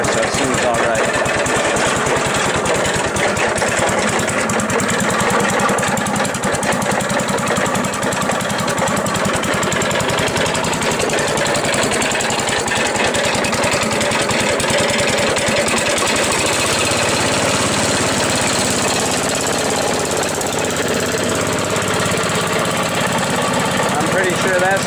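A snow blower with a 12-horsepower engine runs continuously after a cold start with its carburetor still needing adjustment, producing a loud, rough, rattling mechanical drone for the whole stretch, briefly changing tone partway through.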